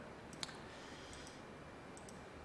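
Faint, crisp computer mouse double clicks sound in a quiet room, several quick paired taps spaced over a couple of seconds.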